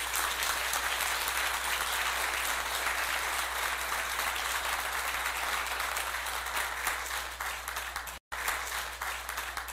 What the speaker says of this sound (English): So Aisha, please give her a big round of applause.